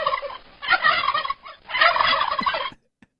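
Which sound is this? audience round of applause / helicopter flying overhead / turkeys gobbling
turkeys gobbling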